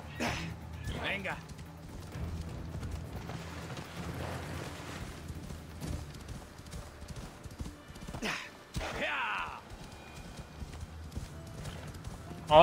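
Rhythmic hoofbeats of a galloping horse in the video game Assassin's Creed Odyssey thud steadily throughout, with occasional whooshing bursts and a faint voice talking in the background.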